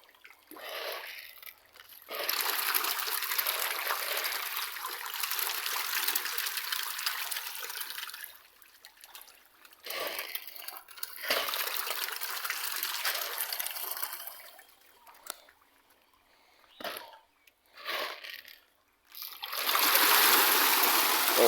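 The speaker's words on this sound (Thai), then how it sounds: "โอ้โห น้ำกระชุดนะครับผม" Fish in a tank churning and splashing the water while they feed, with bursts of loud sloshing and splatter broken by short pauses. The splashing sounds close and continuous, and no voice talks over it.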